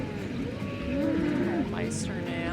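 Cows mooing on a farm in the Nancy Drew game Secret of the Old Clock, a long low bovine call with a rising, wavering tone over steady farmyard ambience, close and fairly loud.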